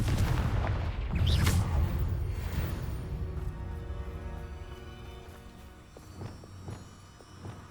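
Confringo blasting spell cast in Hogwarts Legacy, a loud booming burst up front that rolls into a long, fading rumble, followed by a few softer thuds near the end.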